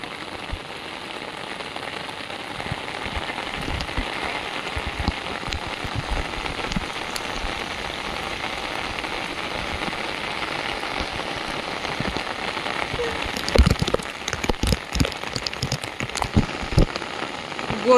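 Heavy rain beats down over a field where fishing traps are set, a steady close roar of drops on surfaces that grows busier and louder with splashy hits toward the end; no one speaks.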